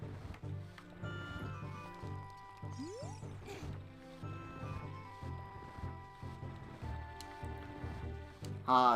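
Puzzle-solved jingle from The Legend of Zelda: Ocarina of Time 3D: a bright rising chime arpeggio rings out at the very end, following several seconds of steady in-game background music.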